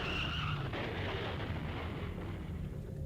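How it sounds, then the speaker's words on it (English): Car accident sound effect from the horror video game Corpse Party: Blood Drive, a loud sustained rumbling crash with skidding and explosive noise, heard alone without speech. "Then there was an oddly familiar sound, another car accident, again right outside my door."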